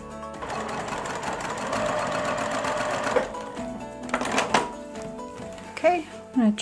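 A sewing machine runs steadily, stitching a bucket hat, a continuous mechanical whir for about three seconds, then stopping and giving way to handling knocks and brief fabric sounds.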